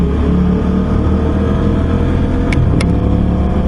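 A 2021 Aprilia RS660 sportsbike running in third gear on the road, a loud steady engine drone with wind rush, a couple of sharp ticks near the end, no speech.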